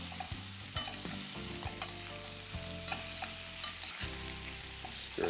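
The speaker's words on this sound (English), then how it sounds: "So that initial sizzle is perfect, and you can see it right here." Mango pieces frying in a hot pan while being stirred, making a loud, continuous close sizzle broken by irregular scraping and stirring knocks.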